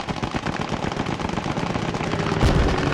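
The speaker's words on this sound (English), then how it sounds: "You see a strafing run come in." A strafing run in a video game: rapid, dense machine-gun fire rattling continuously for a few seconds, close and loud, ending in a heavier booming impact.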